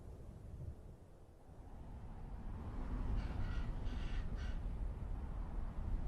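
Raven calls in open country, a few harsh croaking caws in a short cluster midway, moderately near over steady wind and low rumbling background.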